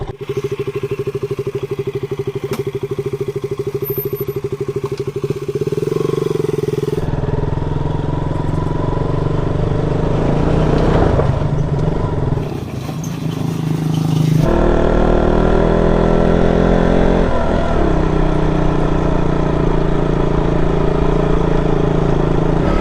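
A motorcycle engine runs loudly and continuously while riding, revving up and down with occasional clatter and wind noise.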